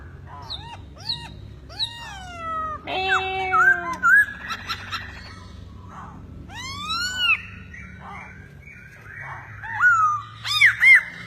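A hand-raised young songbird calls repeatedly, giving sweeping, whistled and harsh notes in irregular bursts close by over low background noise.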